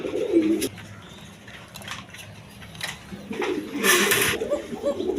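Pigeons coo at a farm where birds are kept in pairs with chicks, giving low, throaty coos in bursts at the start and near the end. A steady background hiss and scattered brighter chirps run underneath.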